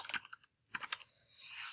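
Quick bursts of keystrokes on a computer keyboard, a few clustered taps, a pause, then another short flurry, quiet and close, fading into a soft hiss.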